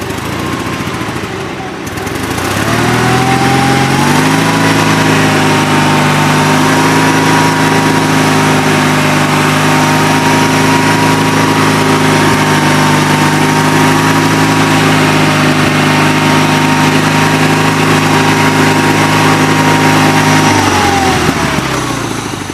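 A tracked 818 machine's engine runs hard under load while hauling out, a loud, steady droning rumble that holds for about twenty seconds, briefly rising in pitch early on and dropping away at the end.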